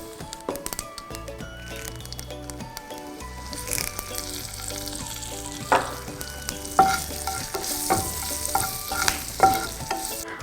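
Mustard seeds sizzling in hot oil while tempering for a traditional sambar, a steady frying crackle with sharp pops and occasional clinks, close and moderately loud throughout.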